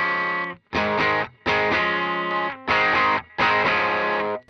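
Electric guitar played through a Mosky Silver Horse overdrive pedal, five loud distorted chord phrases separated by short gaps, close and alone without talk.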